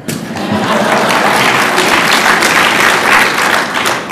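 A crowd applauds at a Republican political speech, a loud, sustained burst of clapping that swells and holds throughout before easing slightly at the end.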